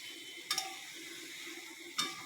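A spatula scrapes twice across a pan of chicken and other ingredients, two short distinct strokes over a faint steady sizzle.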